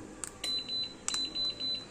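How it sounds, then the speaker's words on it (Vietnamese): A roller door controller box gives short electronic beeps while a remote is being paired, a quick double chirp followed by several steady tones at an even pace, fairly faint against a quiet room hum. "khi hộp nó kêu tít tít thì nhanh tay bấm phím này"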